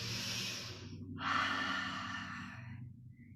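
Slow, deep breaths during a yoga stretch: a long airy exhale followed by a fuller inhale, close to the microphone and steady, with no talking.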